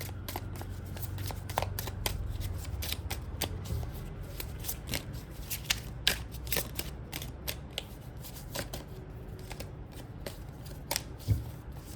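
Tarot cards shuffled for a reading make a steady run of crisp, rapid riffling clicks and soft papery slaps, close and fairly quiet, with no talking.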